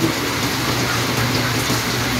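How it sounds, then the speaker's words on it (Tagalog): Steady rain falling, a dense even hiss with no breaks, fairly loud and close. "Umuulan-ulan kaya kape tayo."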